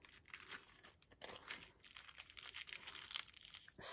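A paper cutout peeled slowly off a handmade greeting card gives a soft, continuous crinkling and tearing rustle, close and quiet, with no talk.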